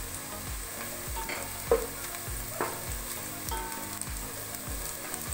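A spoon stirs crushed spices into onions frying in a pan for a mixed vegetable sabji, with a steady sizzle under repeated rhythmic scraping strokes, close and clear with no talking.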